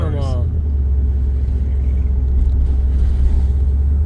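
Classic cars of a rolling car club cruise past on the road, a steady loud low engine rumble and road noise running throughout, with a voice talking over it near the start.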